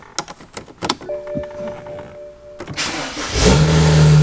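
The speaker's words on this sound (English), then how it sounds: "Car starts." An older BMW: a few sharp clicks and a steady electronic chime, then the engine cranks and catches, settling into a loud, steady running roar close by.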